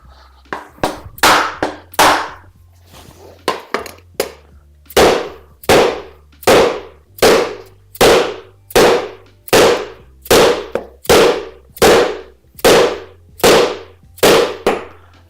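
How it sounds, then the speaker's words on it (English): Loud, sharp bangs from hammering a bearing into place in a Begode A2 electric unicycle motor, about seventeen strikes in a fairly regular rhythm, close by with no talking. "Just trying to seat the bearing back into the"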